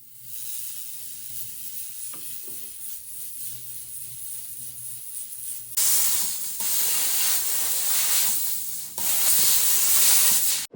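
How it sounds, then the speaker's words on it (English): A jewellery steam cleaner blasts a refurbished diamond ring with hissing bursts of steam, a softer spray first, then louder, brighter jets in two strong pulses near the end. "We're going to be ultrasonicing and then steaming."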